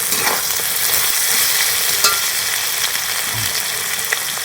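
Ginger and garlic paste sautéing in a pan for a chicken and cauliflower dish, a steady close sizzle with occasional soft scrapes of stirring, no voices.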